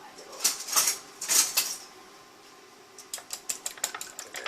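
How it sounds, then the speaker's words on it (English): Egg yolks and whites with vinegar whisked together in a bowl for low carb hamburger buns, giving quick clattering utensil strikes in two bursts, busy at first, then a pause, then lighter rapid tapping; no talking. "I'm going to add my vinegar in there, alright? And I'm going to give those, a mix."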